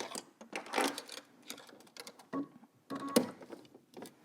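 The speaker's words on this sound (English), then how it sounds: "Let's head over to the sewing machine and stitch this down." A sewing machine fitted with a zipper foot stitches a zipper onto a skirt, running in quick rattling bursts with short pauses between runs, close and clear.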